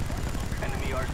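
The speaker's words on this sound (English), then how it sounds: "So I'm going to call on my chopper gunner" A chopper gunner helicopter strike in a first-person shooter video game: a steady, dense rumble of rotor noise and rapid gunfire fills the moment at moderate loudness.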